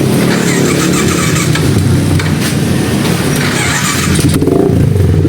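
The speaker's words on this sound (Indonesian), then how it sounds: "Ini motornya sudah hidup kembali." A Yamaha Jupiter MX motorcycle engine, just restarted after a water pump seal replacement, runs loud and rough right up close, a steady rumbling idle with a brief rev near the end.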